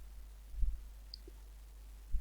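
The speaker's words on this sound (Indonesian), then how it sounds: "Kalian harus menggunakan tombol navigasi sebelah kanan atau tombol panah kanan pada keyboard seperti ini" A keyboard's right arrow key is pressed to turn ePUB pages in a web browser, giving two soft, isolated clicks about one and a half seconds apart in a quiet room.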